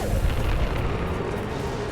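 A heavy weapon fires in Mass Effect 2, producing a loud, booming blast with a rumbling low-end burst that rolls on for a couple of seconds.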